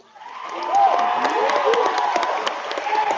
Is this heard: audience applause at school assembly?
yes